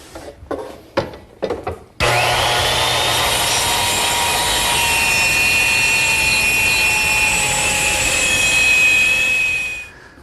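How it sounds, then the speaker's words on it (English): A circular saw trims the corners off a piece of wood: a few short knocks, then the blade screams loudly through the cut for about eight seconds with a steady whine before spinning down. "that's just a simple matter of trimming them with the circular saw"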